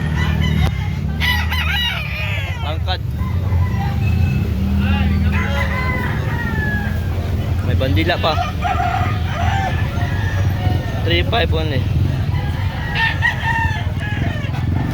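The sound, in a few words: gamefowl chickens and roosters crowing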